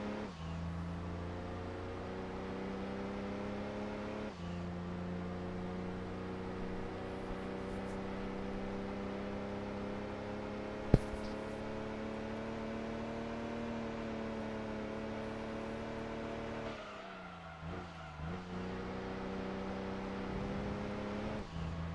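Car engine in Gran Turismo 2, a Fiat 500, humming at steady high revs for a long stretch, with a sharp click near the middle and a brief dip as the revs drop late on.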